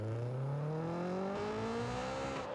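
Honda S2000 engine revving steadily upward toward its VTEC range, a rising tone heard close and continuous through the whole stretch with no talk over it.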